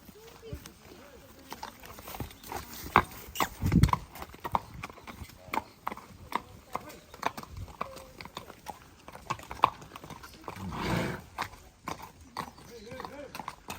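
Hooves clip-clop unevenly on hard ground as a horse moves nearby, with people talking over it and a brief whinny.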